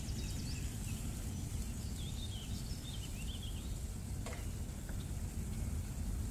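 A yellow coconut milk sauce for potatoes and shrimp bubbling and sizzling in a pan, a constant low crackling simmer with faint bird chirps in the background.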